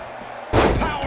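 A powerbomb slam in the WWE 2K20 wrestling video game lands as one sudden heavy impact about halfway through, followed by a loud broadband rumble of arena noise.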